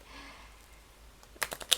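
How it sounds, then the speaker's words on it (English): Thick tarot cards from a Marseille deck are shuffled, giving a quick burst of crisp riffling clicks close by after a quiet stretch. "shuffle it because the cards are surprisingly thick"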